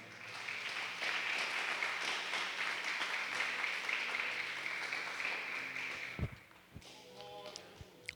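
Congregation in church clapping in a sustained wash for about six seconds before it fades out, followed by a few scattered thumps and taps, fairly faint overall.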